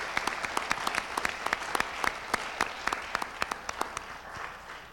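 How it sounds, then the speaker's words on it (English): An audience gives a spelling bee's competitors another round of applause, a steady wash of many clapping hands with sharp individual claps standing out throughout, moderately distant and without speech. "give another round of applause to all the competitors"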